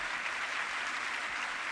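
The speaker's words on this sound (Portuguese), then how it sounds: "Agora, pode aplaudir a luz de Deus" A church congregation applauds at a charismatic renewal assembly, a soft, distant, even patter of many hands clapping with no pauses.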